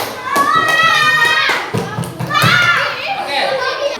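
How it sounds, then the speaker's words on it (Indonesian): Children in a classroom clap their hands in quick bursts of claps and thumps, mixed with lively children's voices and chatter throughout. "Enggak, silakan tepuk tangan."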